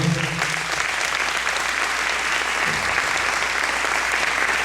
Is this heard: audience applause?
yes